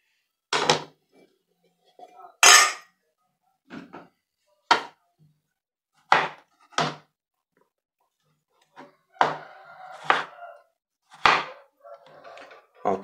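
A kitchen knife strikes a cutting board while a tomato is diced into fine brunoise, giving sharp, isolated knocks spaced irregularly with quiet gaps between.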